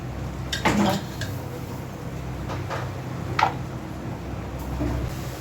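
A pot is lifted out of a pressure cooker and set down in a kitchen, making several separate metallic clinks and knocks spread over a few seconds against a steady background hum.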